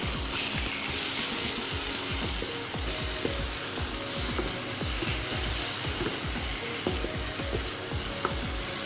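Peas and potato fry in a pan, a steady close sizzle broken by repeated scraping and clicking from stirring.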